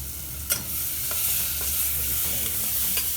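Vegetables fry in a pan during temple cooking, a steady low sizzle with a few soft stirring scrapes and clicks, fairly quiet and without talk.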